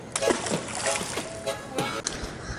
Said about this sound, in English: that water, the way it's ripping through the bridge